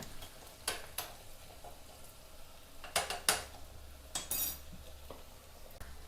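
Intermittent scraping and clinking of a utensil against an old clay pot while stirring chicken curry ingredients until golden, a few sharp strikes spaced irregularly over a low, steady background hum.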